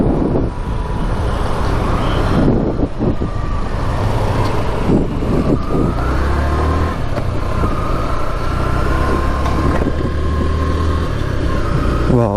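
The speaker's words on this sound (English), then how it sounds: "I'm riding the FZ version 3 right now." Riding a Yamaha FZ FI V3 motorcycle in Mangalore, with a steady engine hum and strong wind rush across the microphone, continuous and close.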